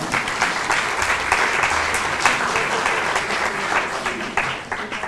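A crowd at a French eloquence contest bursts into sustained applause, loud and even throughout, with a dense texture of many hands clapping at once.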